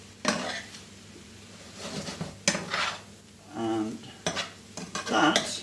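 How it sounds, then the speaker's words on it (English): Potatoes stirred round a pan with a utensil, scraping and clinking against the metal in repeated strokes over a low sizzle, close and fairly loud, with a brief spoken word. "literally now just stir it round, give the potatoes a chance to warm up"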